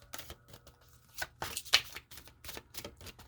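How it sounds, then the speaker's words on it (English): A deck of cards is shuffled up close in a quiet room. Short riffling bursts and soft slaps repeat irregularly, and a faint voice can be heard in the background. "Just a couple more shuffles here and then I will cut the deck."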